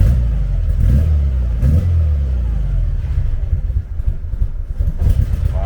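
A Volkswagen Beetle engine, freshly fuelled, runs with its idle speed being raised, giving a steady close throaty drone with slight rises and falls in revs throughout.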